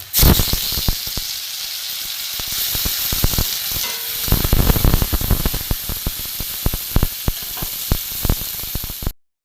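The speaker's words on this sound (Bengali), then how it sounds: "পেঁয়াজটা ভাজা হোক। এবার আমি টমেটো কুচি দিয়ে দেবো।" Chopped tomato hits onions frying in a pan, setting off a loud, close, steady hiss of sizzling oil with a dense run of crackles and pops, then cutting off abruptly.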